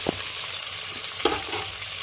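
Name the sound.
onions frying in hot oil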